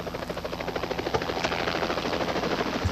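Search and rescue helicopter flying over wilderness on a clear day, a steady loud rotor chop with rhythmic thumping throughout, sounding fairly close.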